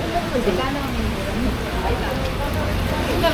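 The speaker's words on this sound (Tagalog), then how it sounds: "Malakas yung ulan!" Dense, steady rain pouring down close by at an outdoor marketplace in Hong Kong, a broad hissing wash with scattered patters, and faint voices mixed underneath.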